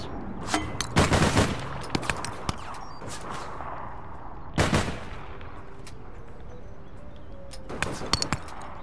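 Light machine gun fire in the online shooter APB Reloaded, several sharp bursts of rapid shots, close and loud, separated by quieter stretches of steady background noise.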